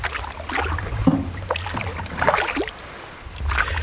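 Canoe paddle strokes dipping into the water on a solo trip in northern Algonquin Park, Ontario, a few soft splashing pulls spaced a second or so apart, close by over a low steady rumble.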